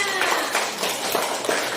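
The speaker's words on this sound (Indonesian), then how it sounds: "Kakek kasih tepuk tangannya." A group of students and a grandfather clap their hands in a classroom presentation, a dense burst of close applause filling the short moment.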